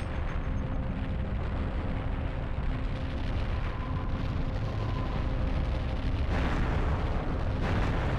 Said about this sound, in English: That N64 fire, though. Showing you flames in 64 bits.